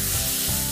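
Turmeric and asafoetida being stirred slowly in a hot pan, a short, loud, dense sizzle that hisses continuously without a break.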